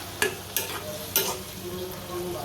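Tomatoes fry in a pan with a steady sizzle as a spoon stirs them, making three sharp scraping strokes over the hiss.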